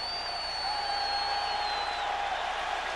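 A packed college football stadium crowd in Austin, Texas, at a 1999 Nebraska versus Texas game, producing a steady, dense roar that holds without a break across the whole stretch, with no voices standing out.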